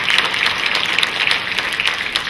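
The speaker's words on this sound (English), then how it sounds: "Absolutely, you're more than welcome to applaud." Audience at a high school symphonic band winter concert claps in a brief burst, fairly loud with individual claps audible in the mix.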